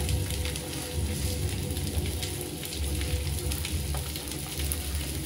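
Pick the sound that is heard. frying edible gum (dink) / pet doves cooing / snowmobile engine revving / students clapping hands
frying edible gum (dink)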